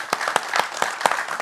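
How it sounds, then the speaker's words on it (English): A small conference audience claps after an economic outlook presentation, the individual claps distinct and uneven at close range, forming brief, sparse applause. "A round of applause for this fantastic"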